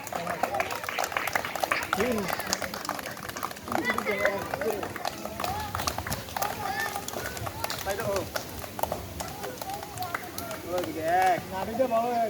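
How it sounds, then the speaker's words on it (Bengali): A group of village children clapping their hands at a balloon-popping contest, dense rapid clapping throughout with loud voices talking and calling over it. "হাততালি দাও, হাততালি দাও"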